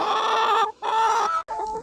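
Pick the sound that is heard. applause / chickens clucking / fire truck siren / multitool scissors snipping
chickens clucking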